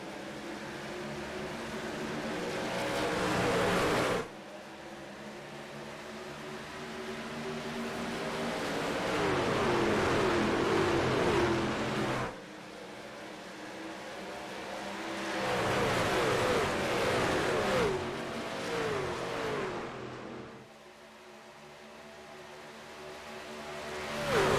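Race trucks in a racing video game at Las Vegas Motor Speedway, engines droning loudly and continuously with rising and falling pitch, broken by a few abrupt cuts in the sound.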